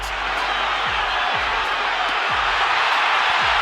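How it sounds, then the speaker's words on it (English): A boxing arena crowd roars in a dense, sustained wall of cheering and shouting, loud and unbroken throughout, with low thumps pulsing underneath. "The crowd erupted as if electrified."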